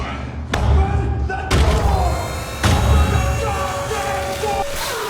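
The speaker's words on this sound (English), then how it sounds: "the door" Doors open in the detective game Shadows of Doubt, heard as several heavy thuds spaced about a second apart over a steady background hum, fairly loud and close.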